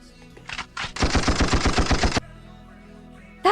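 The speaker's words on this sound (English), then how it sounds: "Next is a gunshot." A rapid burst of about a dozen gunshots from a sound effect played on a V8 soundcard, loud and evenly spaced like machine-gun fire, preceded by a couple of faint clicks and followed by near silence.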